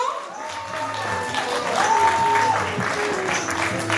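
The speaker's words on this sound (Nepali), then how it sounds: "यहाँले जोरदार ताली बजाउनु हुनको लागि निवेदन छ" An audience applauds at a Nepali folk-duet song award ceremony, sustained clapping from a crowd with a voice rising over the noise.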